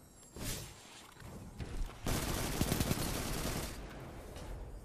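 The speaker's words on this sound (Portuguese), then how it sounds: "Eles estão atirando em mim, estão atirando na barreira." Gunfire in Destiny 2 survival mode: rapid bursts of automatic weapon fire and impacts that grow into a dense, continuous volley, with sharp cracks and thuds up close.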